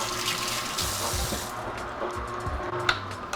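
Freshly made juice runs steadily from a home juicer into a container, a continuous liquid trickle with faint mechanical clinks, no talking.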